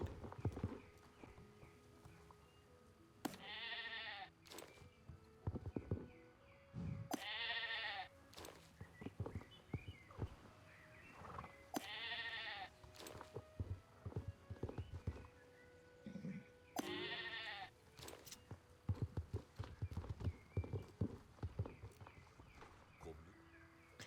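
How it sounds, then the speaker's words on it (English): Sheep bleat several times in a game scene as they are sheared, each bleat wavering, over repeated clip-clop footsteps, soft clicks and a quiet background hum. "let's go ahead and start shearing some sheep"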